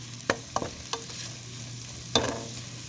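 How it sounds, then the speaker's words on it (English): Mushrooms sautéing in a pan for a wild turkey mushroom gravy, with a steady low sizzle under a few sharp clinks and scrapes of stirring, no talking. "Now I'm just going to saute all that together."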